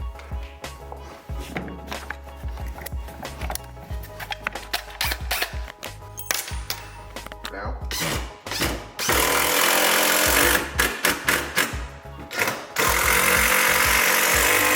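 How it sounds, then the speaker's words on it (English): A power drill whirs in repeated short bursts and then longer runs, driving screws into wood ramps with loud, grinding pulses. "I'm just going to screw these together"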